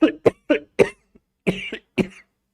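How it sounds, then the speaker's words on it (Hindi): A man coughs in a rapid series of about six short, dry coughs, close and clear against silence, during a chemistry lesson. "मुझे थोड़ी खांसी हो गई है।"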